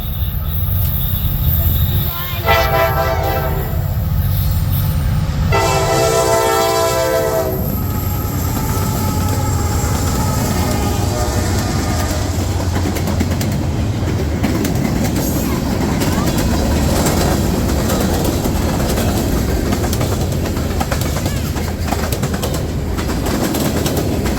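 A freight train hauled by rebuilt AC44C6M locomotives rumbles past nearby, its horn sounding in two blasts early on, followed by a continuous loud roar of rolling wagons with some talking mixed in.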